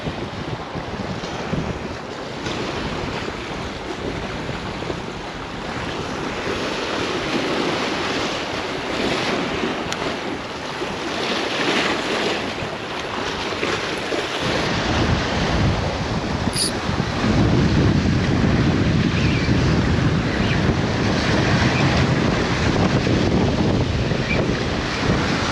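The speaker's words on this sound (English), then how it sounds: "Super windy." Strong wind buffets the microphone at a shoreline while fishing, a loud continuous roar mixed with crashing surf that grows heavier partway through.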